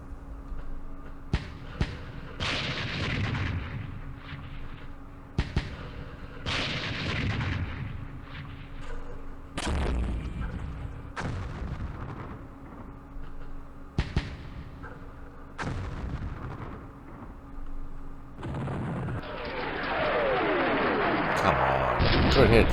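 Mortar and artillery fire in the Campaign Series Middle East war game, Battle of Port Said: a series of heavy booming blasts spaced a few seconds apart, each trailing off, ending in a longer rushing roar.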